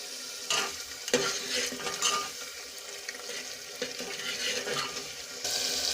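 A pan sizzles softly and steadily while a utensil scrapes and stirs through thick gravy in irregular strokes.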